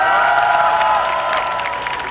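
A crowd at a candlelight rally cheers and applauds a singer. The loud, dense mix of voices rises in pitch, clapping runs underneath, and the noise holds steady for about two seconds.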